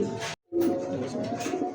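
Pigeons for sale at a pigeon market give soft, throaty coos that run on steadily close by, with one brief pause near the start.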